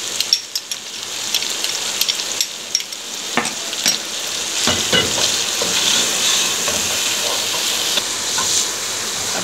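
Blended onion with ginger and garlic paste fries in a pan for arvi gosht, a steady soft sizzle broken by scraping stirs and clinks of a spoon, close by.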